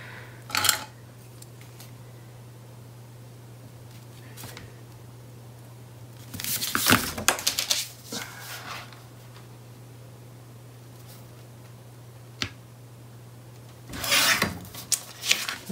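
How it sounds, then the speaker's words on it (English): A paper scrapbook page being trimmed, with three short bursts of scraping, rasping cuts separated by long quiet gaps, close and fairly faint. "think I might have to do a little bit of trimming here."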